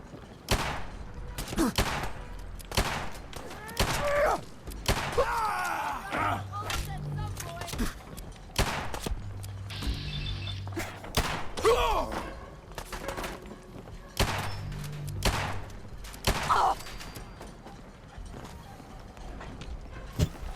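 Revolver shots in the video game Fallout ring out as sharp, separate cracks spaced through a long stretch, with someone talking between them.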